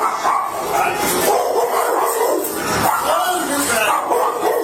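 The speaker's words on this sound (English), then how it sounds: "Get your dog." A dog barks and yips repeatedly during a police raid on a home, mixed with loud, continuous shouting voices and commotion close by.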